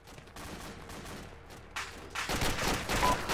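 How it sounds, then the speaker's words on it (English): Gunfire from the military video game ArmA 2, including a PK machine gun firing west: a steady crackle of shots that builds into louder, denser bursts toward the end, heard alone without talk. "I'm firing west."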